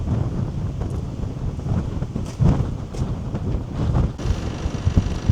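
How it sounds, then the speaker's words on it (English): Steady wind buffets the microphone outdoors on a landscape road in Orkney, a continuous rumbling roar with gusty surges throughout and no other clear sounds. "You can hear me against the wind."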